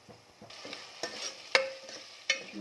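Onions frying in a pan for a homemade gongura chicken dish, a soft steady sizzle broken by a few clinking stirs of a spoon against the metal, close and fairly quiet.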